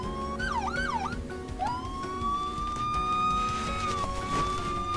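An ambulance siren in the Brick Rigs video game yelps in quick rising sweeps, then shifts to a long steady wailing tone with slight dips, loud and close over a rumbling vehicle engine.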